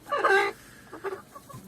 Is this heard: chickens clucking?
yes